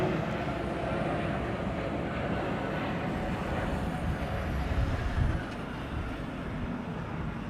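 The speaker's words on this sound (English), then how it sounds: "everything taking off in that hour will be taking off from the runway we are standing next to" A steady, broad jet roar fills the air beside runway 24 at Amsterdam Schiphol on a sunny day as a departing airliner powers up, loud and sustained with a slight swell near the end, with no talking.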